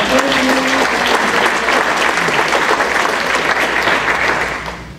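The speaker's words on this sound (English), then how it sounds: "Give these people a round of applause." A Rotary Club of Charlotte audience gives a round of applause to members who served that year, a dense, steady clapping that fades out at the end.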